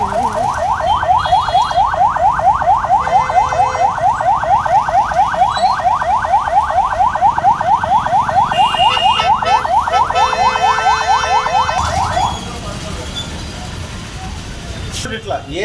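An emergency siren sounds during a police staff demonstration, a loud rapid warbling wail repeating steadily for about twelve seconds before it cuts off, leaving quieter background noise.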